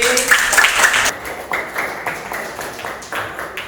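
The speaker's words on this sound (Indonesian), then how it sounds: "Oke, tepuk tangan di." A school class claps hands during a guidance counselling lesson, a burst of quick, close claps in the first second followed by looser, scattered clapping while a voice speaks over it.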